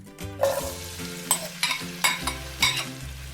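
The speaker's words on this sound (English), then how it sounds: "into the oil we're going to add in the onions and the chilies" Onions and chilies drop into hot oil in a pan, sizzling loudly up close while a utensil stirs and scrapes them in several quick strokes, over a steady low musical tone.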